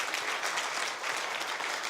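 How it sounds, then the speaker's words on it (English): A studio audience applauds a guest at an interview, brief, even clapping from a small crowd heard at moderate distance without talk over it. "Give him a round of applause."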